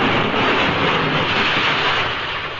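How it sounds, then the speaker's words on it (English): Old-time radio sound effect of an elevated train crashing into another train in a snowstorm, a loud, dense, steady roar of rumbling and clattering noise filling the whole stretch, easing slightly at the very end. "when one engineer, blinded by the snow, crashed into another train"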